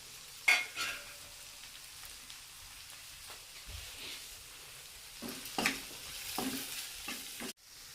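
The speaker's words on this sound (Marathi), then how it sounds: "आता मी याच्यामध्ये टाकून आता हे मसाले चांगले परतून घेते" Ground spices for mutton curry, coriander powder, mutton masala, turmeric and garam masala, frying in a pan with onions, a quiet sizzle broken by a few sharp stirring scrapes and clinks.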